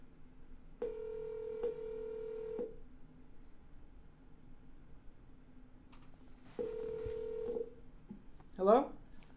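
Telephone dialing a buyer: two bursts of steady dial tones separated by a quiet gap, each lasting a second or two, then a short rising electronic chirp; clear and close, with no talking.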